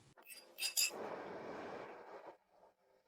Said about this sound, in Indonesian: Gelas pertama, untuk mendoakan Kisue dan Xiaolu, pengantin baru